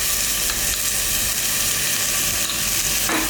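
Onions fry in a pan with ginger and garlic paste newly added for a Kerala-style prawn roast, giving a loud, steady, close-up sizzle that lasts the whole time, with faint stirring scrapes.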